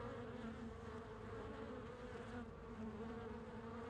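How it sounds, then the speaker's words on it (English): A faint, steady buzz of bees plays in a video game set in Venice, a continuous low insect drone at low volume with no speech over it. "Okay, so it's supposed to be bees,"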